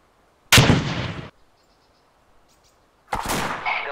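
Two loud, booming gunshot blasts a few seconds apart in the video game ArmA 2 with the ACE mod, each with a rumbling tail, separated by near silence.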